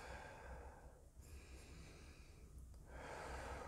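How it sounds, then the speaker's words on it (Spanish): Someone breathes continuously without pauses during a relaxation exercise, with soft, close, airy inhales and exhales flowing steadily into each other. No talking is heard. "Y mantenemos esta respiración sin pausas."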